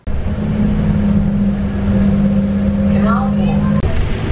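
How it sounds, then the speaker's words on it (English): Inside a moving London bus, a loud, steady engine drone with a low hum fills the cabin while a person talks close by. "I don't know if you can hear me because like it's quite loud, but I'm on the bus."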